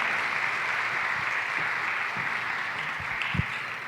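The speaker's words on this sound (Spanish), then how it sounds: "Por favor, un fuerte aplauso para Marcela" Warm applause from the audience at a lecture in Argentina, a dense and steady burst of clapping from a full room, continuous and fairly loud throughout.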